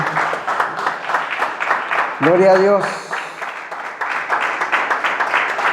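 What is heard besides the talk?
congregation applauding in church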